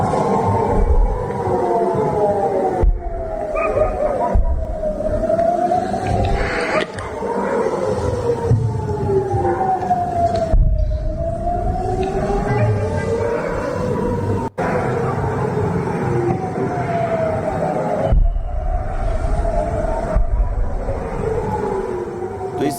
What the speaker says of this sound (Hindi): तो इस सायरन की आवाज आप सुन पा रहे हैं